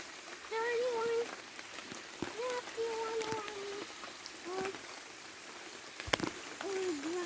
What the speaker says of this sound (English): The sun is out, but it's raining.